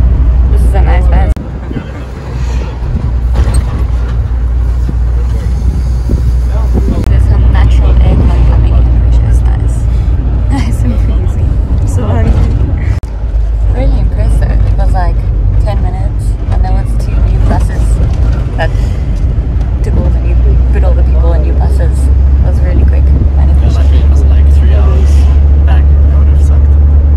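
Steady low engine drone and road rumble from inside a moving bus in Saranda, Albania, loud and continuous throughout, with people talking over it at times.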